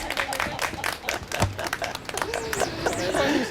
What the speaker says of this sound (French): ils ont applaudi